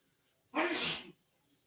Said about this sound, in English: My husband just sneezed really big if you didn't hear it.